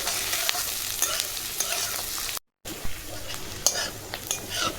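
Onion, garlic, dried chillies and green chillies fry together in a pan with a steady close sizzle and occasional stirring scrapes, broken by a brief moment of silence midway.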